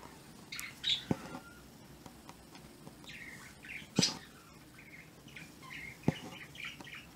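Small birds chirp and squawk outdoors in short scattered bursts, with three sharp cracking snaps standing out at moderate distance over a faint steady background.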